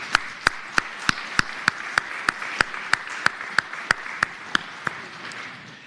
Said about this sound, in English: If we all could give a round of applause to our friends from One Virginia 2021